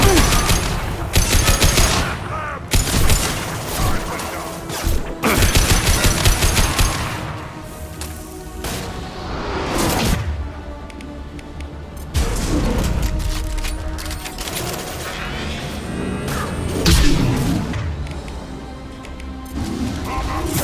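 Combat gunfire in Mass Effect 2 during a loyalty mission, with dense bursts of automatic shots and heavy crashing impacts over about twenty seconds, rising and falling in intensity alongside a musical score.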